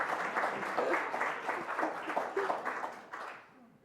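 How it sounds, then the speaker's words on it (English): A local-history gathering's audience applauds Miss Becker, a moderate round of clapping with audible individual claps in a loose rhythm, fading out toward the end. "We should all applaud Miss Becker."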